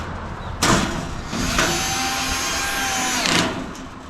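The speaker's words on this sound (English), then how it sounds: "This thing's on like a 14 for a torque. This Milwaukee, it's 12 volt, and it's got a half charge" A Milwaukee 12-volt cordless drill on a low torque setting drives bolts while a chicken nesting box is assembled, giving a loud close whir that starts and stops in several short bursts with faint clicks between them.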